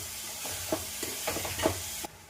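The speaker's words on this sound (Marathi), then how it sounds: "त्याला छान मिक्स करून घ्यायचं।" Spiced tomato chutney being stirred in a pan, a few soft scraping strokes against a low sizzle, close and quiet, ending abruptly.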